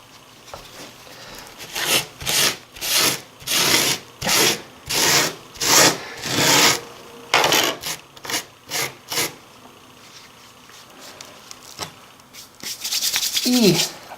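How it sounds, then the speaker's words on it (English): A cloth wipes down a model railway layout in a run of repeated rubbing strokes, brisk swishes in bursts with pauses, close and fairly loud, then a scrape and rustle at the end. "we'll get a cloth, wipe it all down"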